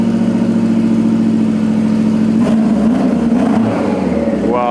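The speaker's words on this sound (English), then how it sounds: "that's even beginning to sound like a Subaru" A car engine, said to sound like a Subaru, holds a steady rumble at a body shop building a TRA Rocket Bunny Pandem kit car, then lifts into a rising rev near the end, loud and close.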